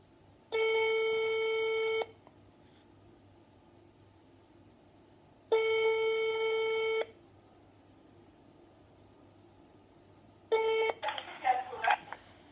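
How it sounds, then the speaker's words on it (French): A telephone ringing on an outgoing call: three long ring tones with pauses between them, then the line picks up with a click and a rustle. "C'est parti, on appelle, ça sonne"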